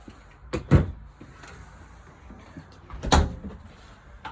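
A closet door in a Jayco Eagle 357MDOK camper interior being opened, two short knocking thuds and rattles roughly two and a half seconds apart over quiet room noise.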